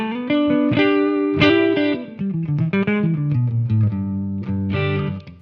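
Electric guitar played on the neck pickup through a Dr. Z amp profile on a Kemper, ringing distorted notes and chords with a chorus-like shimmer, loud and close, with no talking.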